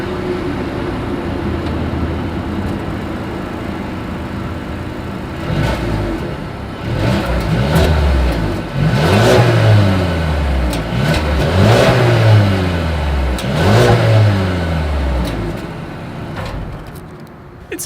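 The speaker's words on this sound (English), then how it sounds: "As always, here is that exhaust clip." A 2020 Mercedes-Benz A220 idles at the exhaust with chrome tips, then revs several times in a row, each rise and fall clearly rasping, close and loud, before dropping back to idle.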